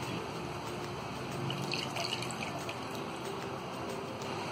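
Water poured into a pan of dhaba-style egg masala makes a steady, soft splashing and trickling that carries evenly for a few seconds, close by, with no talking.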